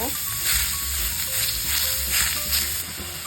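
Ground beef, about 500 grams, sautéing in a pan for a Filipino giniling with potatoes, giving off a steady, close, loud hiss and sizzle with faint scraping underneath.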